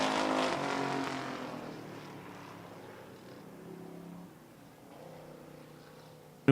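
Race cars roar past at Devil's Bowl Speedway as the checkered flag falls, a loud engine rush at first that fades into a lower, distant drone, with a brief swell of another car later.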